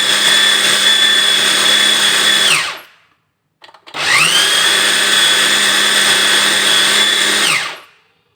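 A kitchen blender running while making Semarang-style tahu bakso: two loud, steady whirring bursts of a couple of seconds each, the motor winding down at the end of each run, separated by a short quiet gap with a small clunk.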